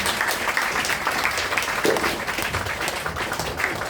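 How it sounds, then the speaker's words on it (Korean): Steady, dense applause from an audience at a Korean music book concert, following a geomungo performance and a sung piece; continuous clapping fills the room throughout without pause. "큰 박수 한번"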